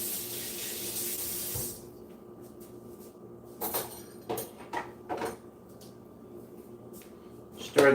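Pasta water pouring into a pan while cooking, a steady splashing stream for nearly two seconds, followed by quieter kitchen clatter and short knocks.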